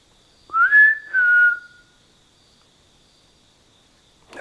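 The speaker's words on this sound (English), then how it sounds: "If you just whistled, can you whistle back to me?" A person whistles two short rising-then-level notes close by, then stops, leaving near silence with a faint steady background tone.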